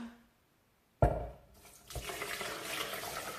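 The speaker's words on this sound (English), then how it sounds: "And I'm going to add a bit of water." Soaking water is poured into a blender after a tap-like start, a sudden splash followed by a steady, close rushing pour that builds slightly, with no talk.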